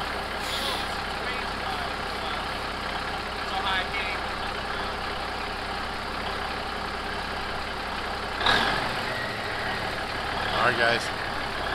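A big International 9670 truck's diesel engine idles with a loud, steady rumble and drone, broken by a couple of brief hissy bursts, while voices come through faintly in the background.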